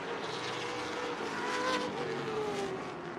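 Super late model race cars circle Dells Raceway Park during a heat race, a dense, steady engine roar with faint tire squeal, loud and continuous throughout.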